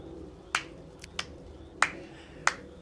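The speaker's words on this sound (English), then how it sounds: "I hope everybody can hear you doing the slow clap." Slow hand clapping during a 2014 NA CS Summer esports play-in match broadcast: four sharp, widely spaced claps about two thirds of a second apart, close and fairly faint over a quiet room tone.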